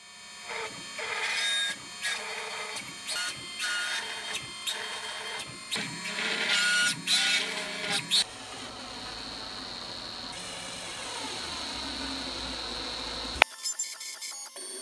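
A drill press mills a pocket into a front mounting plate, making a whining machine tone broken by rhythmic bursts of cutting, then a smoother continuous hum before stopping abruptly near the end.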